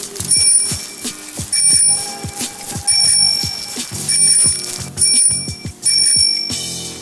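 Repeated bright bell rings from a video game sound in bursts about once a second, loud and alone over layered game effects.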